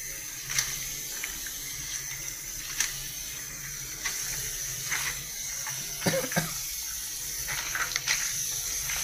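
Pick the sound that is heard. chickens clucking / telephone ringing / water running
water running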